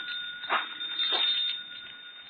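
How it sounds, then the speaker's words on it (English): A telephone bell ringing in a house, in short bursts with a steady high tone running through the whole clip, moderately loud and heard alone. "I think that's your phone."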